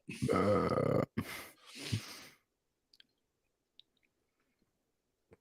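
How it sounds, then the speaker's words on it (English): A loud, throaty burp rumbles up close, followed by a couple of shorter gulping belches, then near silence with a few faint clicks. "I'm burping"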